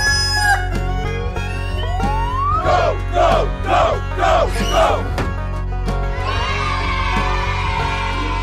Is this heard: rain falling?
no